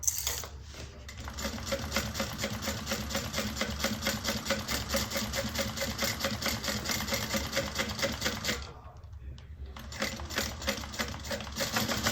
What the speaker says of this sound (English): we're going to top stitch onto that side panel